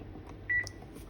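A rice cooker restarting to cook azuki beans gives a single short, faint electronic beep against quiet background hum, with no talking.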